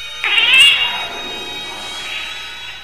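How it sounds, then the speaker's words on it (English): A black cat in the video game The Last Door lets out a single loud, drawn-out meow that fades into a quiet tail, heard alone and close. "A black cat is staring at me."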